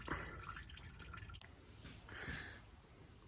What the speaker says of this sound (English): So now that all the oil is finishing draining out